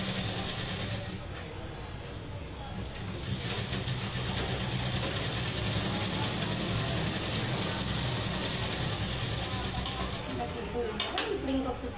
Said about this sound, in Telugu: ఇప్పుడు ఇంకొక కుట్టు వేసేసుకోవాలి